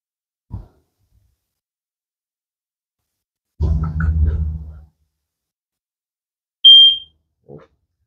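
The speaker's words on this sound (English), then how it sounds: "Your smoke detector is kind of right by your entrance here. It'll go a couple of times there." A smoke detector near the entrance of a travel trailer gives a single sharp high-pitched electronic beep, brief and clear, amid a quiet room with some low thumps and rustling nearby.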